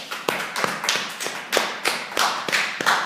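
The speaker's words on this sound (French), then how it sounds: "Acclame le Seigneur." Church congregation clapping in acclamation, a handful of sharp, close claps and taps arriving in an uneven rhythm over a few seconds, with no voices.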